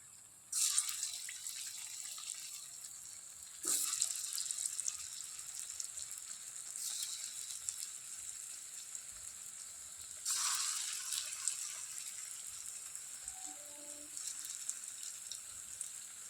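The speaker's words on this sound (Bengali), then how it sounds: "এই দেখো সুন্দরভাবে ভাজি হয়ে যাচ্ছে" Balls of green banana kofta frying in hot oil give a soft hiss that flares into sharp sizzling bursts as each batch goes in, then settles into a steady, quiet crackle.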